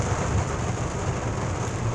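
A heavy downpour during a thunderstorm fills the air with a dense, continuous hiss of rain over a low rumbling undertone, with no voices.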